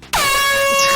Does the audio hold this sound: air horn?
yes